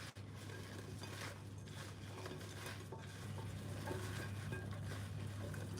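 Ingredients for a salt-and-pepper tray bake being stirred, a soft continuous scraping and shuffling at close range with a steady low hum behind it, no talking.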